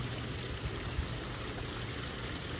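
Water from a small spring flows steadily outdoors near a hotel in Tokyo, a continuous soft trickling wash with no talk over it.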